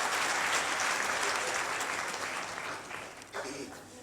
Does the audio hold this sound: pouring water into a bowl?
no